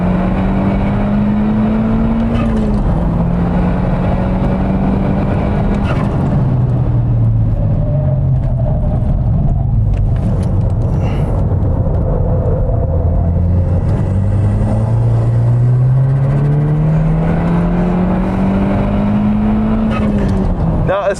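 A front-wheel-drive car on Goodyear Eagle F1 Supersport tyres accelerates hard, its engine rising and dropping through repeated pitch sweeps as it pulls, a loud, close, continuous drone with a voice talking over it.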